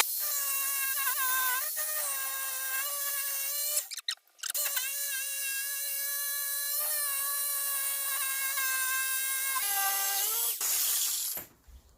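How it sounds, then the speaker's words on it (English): Old power tools whine loudly at a high pitch while a scaffolding board is worked into a shelf, running steadily with a brief cut-out in the middle and a drop in pitch near the end. "These old power tools are the noisiest thing I've ever heard."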